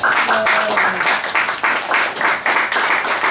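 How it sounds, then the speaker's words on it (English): A round of applause from a modest crowd, clapping in uneven surges, moderately loud, with faint voices mixed in. "Let's give them a round of applause, please."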